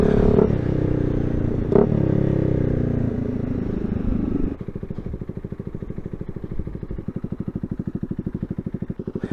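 A Honda Rebel 300 motorcycle with an aftermarket exhaust idles and revs nearby, then settles into a rapid, throaty pulsing exhaust note that continues steadily to the end.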